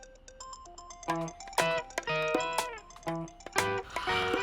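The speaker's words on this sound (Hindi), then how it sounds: "ये तो मेरे फोन की रिंगटोन है।" A mobile phone ringtone plays as a bright, chiming electronic melody in repeated tonal phrases, loud and clear with no talk over it, in a drama scene where the phone has been left in another room.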